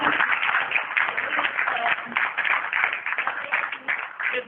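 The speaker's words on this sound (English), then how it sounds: "Can we have a round of applause for reaching this?" Audience applause at a public meeting of an advisory committee, a dense, steady wash of many hands clapping close by for several seconds, with voices mixed in.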